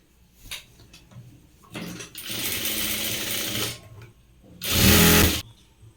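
A home sewing machine stitching a woman's blouse runs in short bursts, a brief whir, a longer steady run of several seconds, then another loud burst, with quiet handling noises between.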